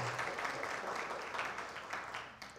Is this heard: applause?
yes